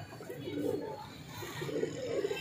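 Two ringneck pigeon breeder pairs in Faisalabad give low, rolling coos in two close bursts, heard near over a faint background hum.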